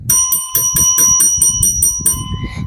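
A bright bell rings in a rapid series of about nine even strikes, loud and close, like a notification chime ringing repeatedly before a final softer tap.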